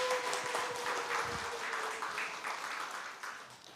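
A congregation at a Sunday Buddhist temple service in Seoul claps to welcome a new piano accompanist, a steady crowd applause that thins slightly toward the end.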